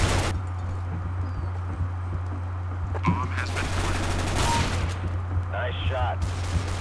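Gunfire in Counter-Strike: Global Offensive, with sharp bursts and a quick string of shots near the middle over a steady low game hum, the last shots followed by a brief remote-sounding chatter.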